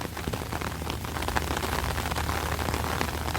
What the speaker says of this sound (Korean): 갑자기 비가 많이 내립니다.